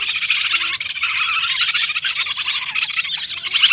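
Young pet bird chicks about two to three months old squawk and squeal continuously in a dense, shrill chorus, close and fairly loud, with no talking.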